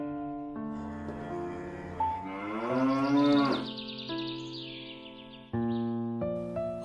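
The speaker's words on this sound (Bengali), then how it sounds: "ছোট বাছুরটা ক্ষুধার জ্বালায় ডাকছে" A hungry calf moos loudly and close by in a long drawn-out call that rises and wavers, then a second shorter moo follows, with faint bird chirps behind.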